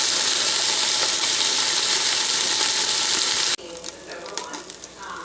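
Beef sears in high smoke point oil for a stew, loud and continuous at close range, then cut off abruptly to quieter clatter and faint background noise.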